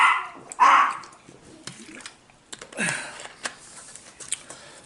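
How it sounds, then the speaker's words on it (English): Dogs bark in a loud indoor burst near the start, followed by scattered softer yips, sniffs and small knocks, all close by during a live broadcast. "Now the dogs are photobombing us"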